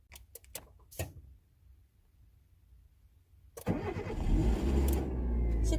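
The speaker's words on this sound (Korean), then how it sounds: "이제 시동 거는 방법을 알려드릴게요" A car engine cranked while the clutch and brake pedals are held down. A few clicks come first, then after a quiet pause the motor catches and settles into a loud, steady idle close by.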